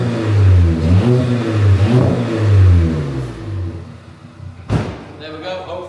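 A 1.2 TSI engine with its muffler deleted revs in several rising and falling pulls, loud and close, followed by a sharp slam-like thud near the end.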